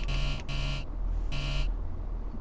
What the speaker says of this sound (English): little bit eager on the the buzzer there